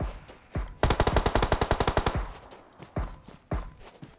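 Automatic gunfire in the mobile battle-royale game PUBG Mobile: a rapid burst of about a dozen sharp, evenly spaced shots, followed by a few scattered single loud reports.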